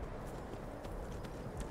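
Horse hooves clip-clop softly in Skyrim, a quiet, uneven patter of steps on ground running steadily under faint game ambience.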